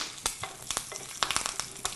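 Mustard seeds, cumin, urad dal and curry leaves frying in hot oil for a tempering: a busy close sizzle with scattered sharp pops and crackles, no voices.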